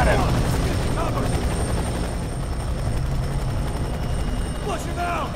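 In the video game F.E.A.R. 3, a helicopter thrums with a loud, continuous low rotor chop throughout. Game characters speak over it, with brief radio-like chirps near the start and end.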